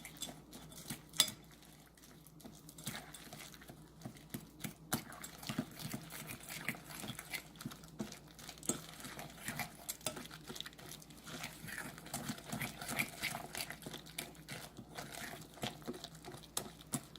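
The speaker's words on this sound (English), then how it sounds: "And then you just stir everything up." Batter with cacao nibs is stirred in a bowl, giving quiet, continuous scraping and light spoon clinks that keep an uneven rhythm throughout.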